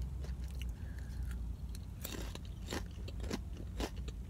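Jalapeno popper flavored potato chips crunched and chewed close up, a run of sharp crisp bites and crackling chews spread across a few seconds.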